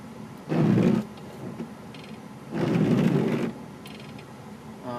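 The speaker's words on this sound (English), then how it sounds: "when we try to use our wipers, they make a real bad noise" Worn wiper blades on a 1997 Mitsubishi Montero drag across the windshield in two loud, juddering sweeps about a second long each, separated by a quieter pause, with no talk.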